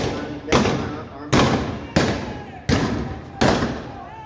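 Five sharp blank gunshots ring out at a Defeat of Jesse James Days bank robbery reenactment in Northfield, Minnesota. They crack loudly at irregular intervals under about a second apart, each trailing a short echo.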